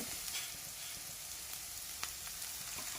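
Boiled noodles are tossed with vegetables in a hot pan, giving a quiet, continuous sizzle with soft scraping and stirring clicks, close up and without talk.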